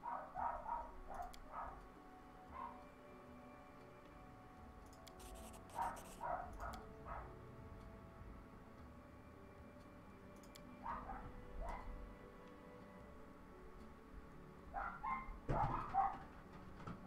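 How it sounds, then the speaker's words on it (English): Dogs in a video game bark in short, repeated bursts, clustered at the start, around six seconds, near eleven seconds and again near the end, with quieter stretches of game sound between them. "Good, dogs. Just keep barking."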